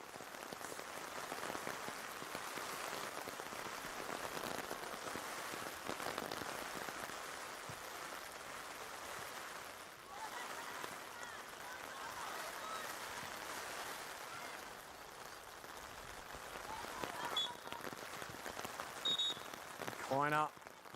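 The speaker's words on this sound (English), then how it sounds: "And a rain barreling down now" Rain pours down over a women's Premier League football match, a quiet, even hiss that runs unbroken through the whole stretch, with a few brief louder spikes near the end.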